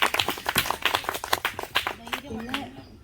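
A group of teenagers at a summer camp claps in a quick, uneven burst of close hand claps that thins out toward the end, with voices talking over it.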